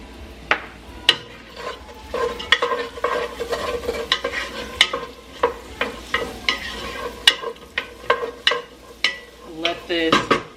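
Onions and celery sizzle in a soup pot while being stirred, a steady frying hiss broken by repeated scraping and clinking knocks of a utensil against the pot, close and fairly loud.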